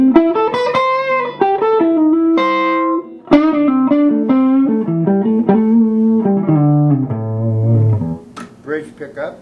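A Blockhead First Born solidbody electric guitar on the neck pickup with its volume fully up plays a sustained, distorted melodic lead through an amp, loud and close, with bends and held notes before trailing off into a few short picked fragments.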